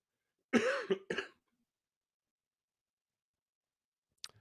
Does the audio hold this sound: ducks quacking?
no